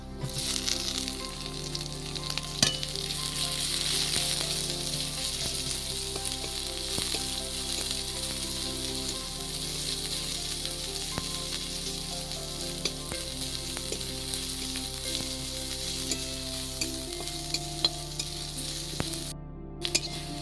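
Onions fry in a pan for a Bengali steamed katla fish dish, giving a continuous, even sizzle that stays close and steady for the whole stretch with a low hum beneath and no talking.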